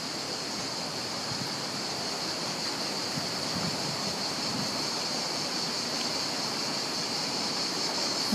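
A stream of water flows in a wooded town park in Saint-Victoret, giving a steady, even rushing wash that runs unchanged throughout with no voices.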